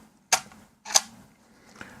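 A Canon 5D Mark IV DSLR with a shutter error attempting to fire, giving two sharp mechanical clacks about half a second apart, then a fainter click, close up and alone.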